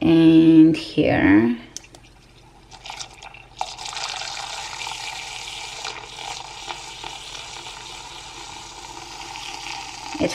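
A sweetened, vanilla-like drink being frothed, heard as a steady foamy whir and fizz after a brief spoken remark at the start.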